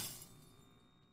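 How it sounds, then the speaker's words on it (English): Glass breaks in the Five Nights at Freddy's VR game: a single faint shattering crash that rings briefly and then fades away. "Who broke my glass? Did you break my glass?"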